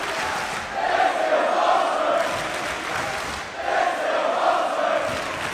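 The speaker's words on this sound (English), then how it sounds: "Crowd in Newcastle giving their seal of approval to another incredible showdown" A Newcastle arena crowd at a pro wrestling World Cup final roars its approval after a match, a broad wash of cheering and shouting that rises in two swells.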